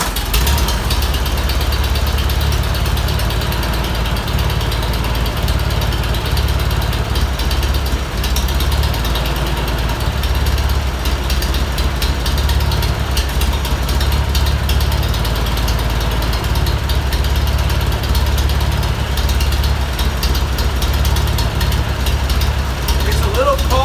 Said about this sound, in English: that's the easiest that tractor has ever started